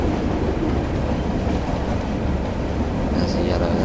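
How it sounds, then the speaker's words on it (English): A class 37 diesel locomotive coasts between Berwick and Holgate in the game Train Sim World 2, giving a steady, loud rumble of wheels and engine that runs unbroken throughout, with a faint clack near the end. "Just seeing you class 37 at the minute, travelling between Berwick and Holgate. Just coasting as well"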